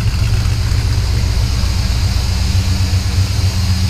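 An XC GXL build's engine runs after an exhaust leak repair and a new O2 sensor, holding a loud, steady, deep rumbling idle with no talk over it.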